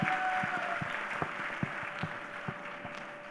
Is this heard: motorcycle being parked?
no